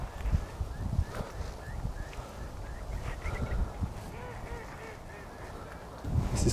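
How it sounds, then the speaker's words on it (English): Ducks at a flooded lake, with scattered quacks and honks over a murmur of outdoor background noise, moderately distant. "A lot of ducks around, they were just here before."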